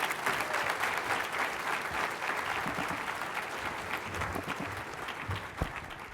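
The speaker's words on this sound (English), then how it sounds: "if you don't mind kind of giving him a really big round of applause" Big round of audience applause at a science education conference plenary, a dense, loud crowd clapping that holds steady throughout with scattered faint voices underneath.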